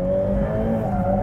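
A Ferrari F8 Tributo accelerates out of a corner, its engine a steady, loud rising drone with tyre noise underneath and no voices.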